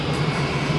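A Wizz Air airliner taxis at Gdańsk Lech Wałęsa Airport, its engines giving a steady, moderately loud hum with a low droning tone and no voices.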